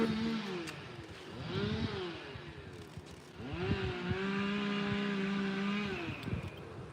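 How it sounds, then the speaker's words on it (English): A chainsaw cutting in the distance near a Florida bass fishing spot, its engine whining up and down in pitch with repeated revving surges over steady outdoor background noise. "Chainsaw."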